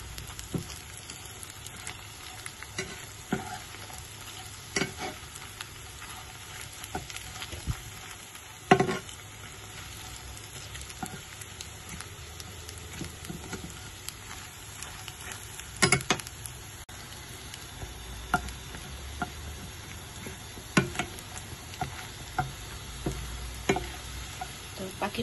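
Tempe mendoan frying in oil in a home kitchen, a soft steady sizzle with occasional clinks and stirring taps, fairly quiet and close, with no talking.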